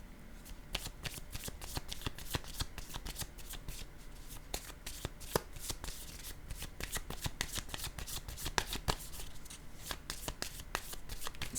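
Playing cards are handled and shuffled at a table during a group game, a soft, dense run of quick papery flicks and riffles that carries on without a break.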